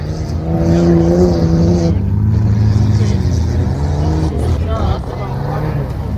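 Six-cylinder car engine revving at a muddy off-road event, a loud sustained roar rising and falling in pitch, with people talking over it.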